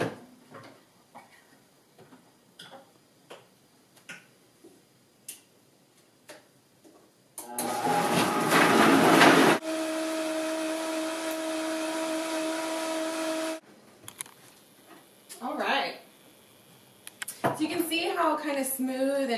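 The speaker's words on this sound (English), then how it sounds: "So now we're going to blend this up." A kitchen blender whirs loudly through a green smoothie with chocolate in it, running about six seconds in a dense roar after clicks and handling noises, then stopping, with speech around the blending.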